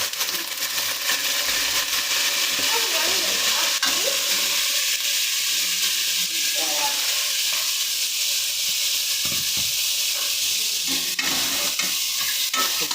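Small pieces of mutton frying in oil in a pan for a mutton saaru, giving a steady loud sizzle and hiss with occasional stirring scrapes throughout.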